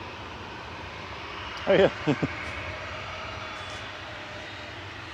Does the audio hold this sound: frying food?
no